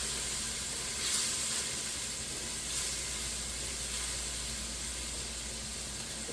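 Two large garlic cloves fry in a pan for pasta sauce, giving off a steady, even sizzle and hiss that holds throughout with no talking.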